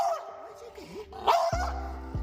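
A dog barks and yips during resource-guarding training, a few sharp close barks with a whining tone, loud against a quiet room and followed by a low rumbling noise.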